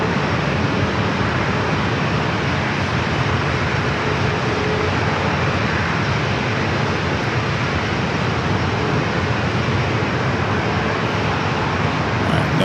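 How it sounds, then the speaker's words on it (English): An Air Canada Boeing 737 MAX 8 taking off at San Diego airport, a loud continuous broadband engine roar holding steady throughout, heard from nearby with no voices. "No delay on that takeoff as we swing the camera back out to the southeast."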